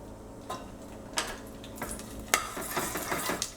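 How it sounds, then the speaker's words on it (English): Garlic, red chilies and ginger saute in a pot on low heat, a soft sizzle broken by a few clinks and scrapes of a spoon against the pot, with no voices. "Mix it and kind of leave it for 6-7 minutes because we want to brown the garlic in this."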